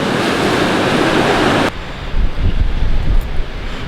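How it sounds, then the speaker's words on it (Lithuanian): Sea waves breaking on a beach in Malta, loud and rushing with heavy wind-like noise for the first second and a half, then a softer, nearer wash of surf swelling and ebbing with no voices. "Kai arčiau prieini, bangos atrodo smagios"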